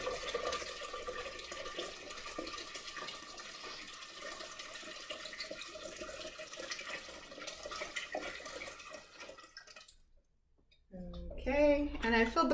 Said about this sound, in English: Okay, and I filled the pot about half full.